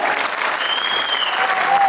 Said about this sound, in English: we welcome our young Marathas with a thunderous round of applause